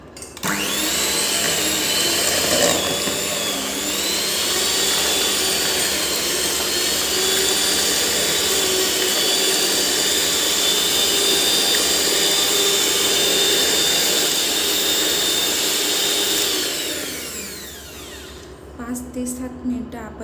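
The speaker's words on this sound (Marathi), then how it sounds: "बीटर मशीनने ते बीट करून घ्यायचं" An electric beater churning cream for homemade butter whirs steadily at high speed for most of the stretch, then winds down and stops, leaving a few brief clatters.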